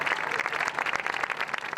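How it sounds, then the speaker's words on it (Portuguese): Steady applause from a group of people greets patients leaving a field hospital, a dense, even patter of clapping heard up close without pause for the full couple of seconds. "Eles voltaram para casa sob salva de palmas"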